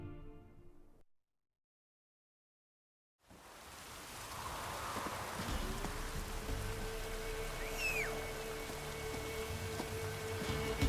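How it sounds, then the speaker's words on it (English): Light drizzle in The Witcher 3, a steady soft rain hiss that fades in after a short silence and keeps on evenly near the listener, with a faint tonal game ambience underneath. "Oh, it's drizzling."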